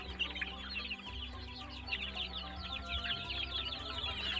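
Dense chirping and peeping from a flock of roughly 200 unvaccinated native village chicks, continuous high twittering from many birds close by, no voices.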